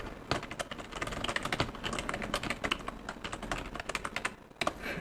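Rapid, uneven clicking of keys on a computer keyboard, continuous close typing with brief pauses.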